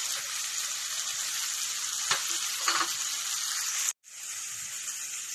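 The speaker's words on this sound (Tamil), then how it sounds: "கடைசியா வந்து நம்ம துருவின தேங்காவை போட்டு கொஞ்சம் வதக்கிட்டு" Steady sizzling and frying as grated coconut is sautéed in a hot pan, with occasional stirring scrapes, continuous and close, briefly cutting out near the end.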